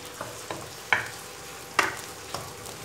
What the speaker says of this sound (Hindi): ये डाल देंगे और इसको हल्का सा ब्राउन करेंगे प्याज को